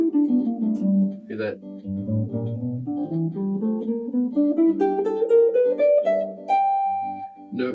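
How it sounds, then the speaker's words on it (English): A bluegrass scale with chromatic passing notes runs upward on a plucked instrument as a quick, continuous line of notes, close and clear, with a brief spoken aside at the end. "So if I play this bluegrass scale, it sounds like this."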